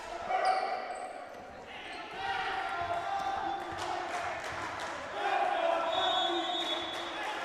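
Huskies fans cheering in a gym at a Centennial College vs George Brown College men's volleyball match, bursts of shouts and whoops rising and falling over a few seconds, with a commentator talking throughout.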